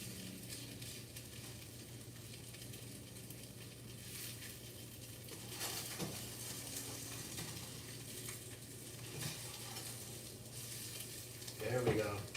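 An egg fries in a pan with a constant crackling sizzle while a spatula scrapes and nudges it, a louder scrape and clatter near the end, with a low steady hum below.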